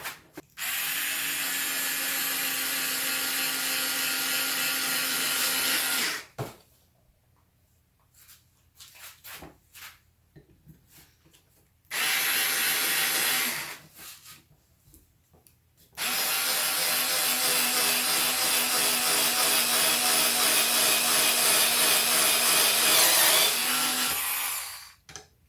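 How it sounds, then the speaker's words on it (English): A SKIL 4V cordless screwdriver drills with a 1/8 inch bit in three loud, steady whirring bursts of about six, four and nine seconds, separated by quiet pauses, with no talk. "We've got an 1/8 inch drill bit here. We'll just see if it can drill through."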